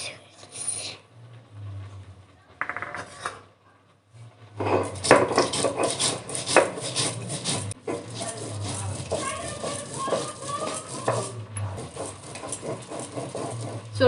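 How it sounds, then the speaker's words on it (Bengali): Mustard seeds ground into paste on a stone, a rough rhythmic scraping and rubbing heard up close, with a brief gap early on and occasional voices in the background. "সরষেটা বেটে নেব।"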